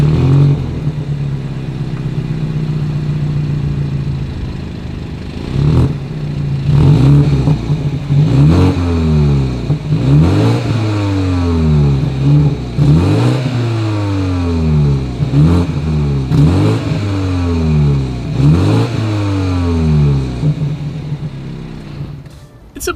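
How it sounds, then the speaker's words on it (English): A BMW X3 exhaust revs repeatedly, engine pitch sweeping up and falling back in a steady series of loud blips, ending with one sharp final burst. "As always, here is that exhaust clip."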